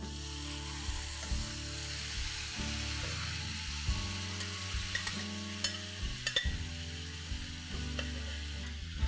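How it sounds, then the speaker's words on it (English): Mutton pieces sear in oil in a kadai over a high flame, with a continuous soft sizzle, occasional spatula scrapes and a low hum beneath. "Now we're going to simply put this in a kadai, saute it for a couple of minutes"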